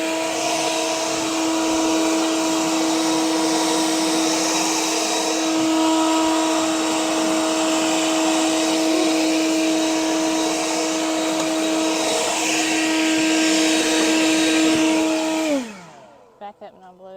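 A blower runs steadily and loudly up close, blowing out debris during farm chores, holding one droning pitch for about fifteen seconds before winding down and cutting off.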